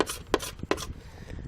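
Short rasping strokes of a tool scraping at plastic during a repair, a few quick close passes in quick succession, with no voices.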